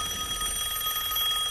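A telephone rings continuously in a steady electronic trill, sounding like an alarm and heard alone with no talk.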